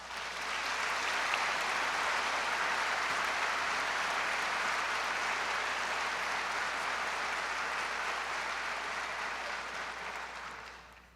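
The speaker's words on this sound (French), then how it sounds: "On peut les applaudir." Sustained applause from the audience at a university graduation ceremony for early-childhood and primary education students in Montreal, a dense, even wash of clapping that holds steady for about ten seconds before tapering off at the end.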